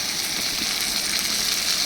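Fish oil and egg fry with half-cooked onions in a pan, making a dense, even sizzle that holds steady and close for a short moment, with no voices.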